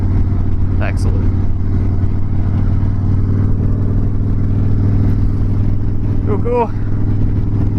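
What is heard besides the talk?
Harley-Davidson Dyna Wide Glide motorcycle engine rumble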